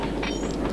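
A train rolls along the tracks in the video game Sly 2, making a loud, continuous low rumble with a rhythmic metallic clatter over it.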